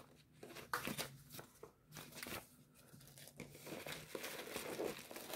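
Large bubble wrap is pulled off a Cooler Master MWE 650 Bronze computer power supply during unboxing, a close, continuous crinkling and rustling with scattered sharper crackles and no talk.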